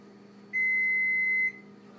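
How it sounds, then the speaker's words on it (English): A kitchen timer beeps once, a single steady tone lasting about a second over a low, constant background hum while cinnamon rolls bake. "Now once that timer is up"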